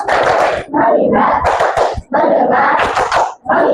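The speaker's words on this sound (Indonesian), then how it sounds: "sekarang kita tepuk fokus dulu" A primary school class in Indonesia performs a rhythmic clapping chant with a teacher, loud and close, with bursts of hand claps and children's voices chanting together in short phrases separated by brief pauses.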